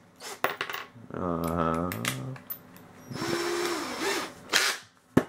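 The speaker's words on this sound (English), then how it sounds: "So chuck it up into a drill and then start grabbing into the metal." A power drill fitted with a carbide burr whines up and down in short bursts, with a rough metal grinding rasp, broken by clicks and brief handling noises.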